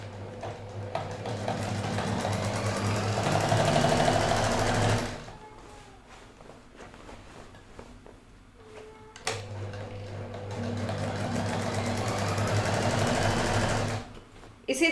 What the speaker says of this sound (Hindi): हमने उसी तरह से इसको उल्टी साइड से सिलाई लगानी है।